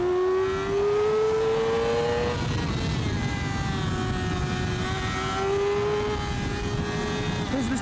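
A 600cc Yamaha R6 sport motorcycle on a Spanish road revs hard, its engine note climbing and dropping through shifts as it rides past. The loud, close engine whine stays strong throughout.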